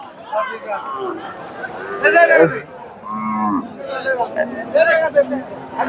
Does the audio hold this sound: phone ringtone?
no